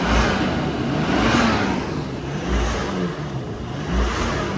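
Turbocharged engine of a 1998 Nissan Skyline R34 revving in a few swells, loud and close, with a steady mechanical whir between pushes and no talking.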